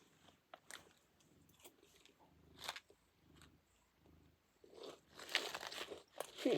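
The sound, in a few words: eating crunchy buffalo wing sauce flavored crickets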